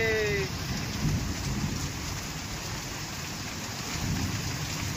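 Heavy rain pouring steadily during a thunderstorm with rumbling thunder, a dense constant wash of rain close by and low rolling thunder in the background, no speech.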